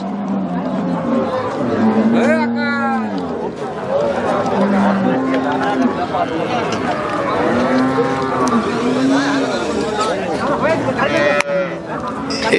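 Cattle moo loudly again and again, several drawn-out calls, over a steady hum of crowd chatter at a busy market.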